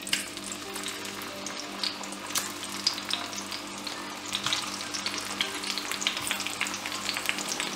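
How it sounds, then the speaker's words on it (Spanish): Tomatoes searing in a frying pan, a continuous close crackling sizzle with small pops scattered throughout, steady in level from start to finish. "En esta misma sartén pasaré los tomates, los marcaré también."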